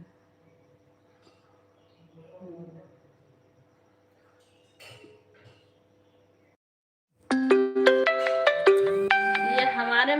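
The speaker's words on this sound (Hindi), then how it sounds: "किसका फोन आ रहा है और दिख भी नहीं रहा" A phone ringtone suddenly starts playing a bright electronic melody loudly, after a quiet stretch with a few faint voices and small noises.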